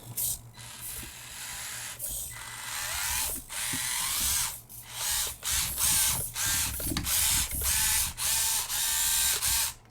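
Basher Rocksta 1/24 scale motor-on-axle RC crawler with its steering binding straight out of the box, giving a loud continuous whirring, ratcheting gear grind with repeated brief stops and restarts.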